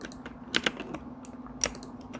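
Computer keyboard shortcut keys pressed while working in 3D modeling software for clothing design: a few sharp, close key clicks in small irregular bursts, with quiet pauses between.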